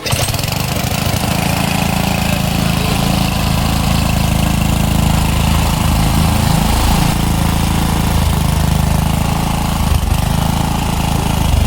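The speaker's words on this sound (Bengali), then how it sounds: "এই তো যখন অটোমেটিক ইঞ্জিনটা বন্ধ হয়ে যাচ্ছে এই হচ্ছে আমাদের সমস্যাটা কিছুক্ষণ চলছে আবার কিছু বন্ধ হয়ে যাচ্ছে" A WPK 30 petrol water pump engine runs loudly and steadily at close range, a continuous rough mechanical drone with no pause throughout.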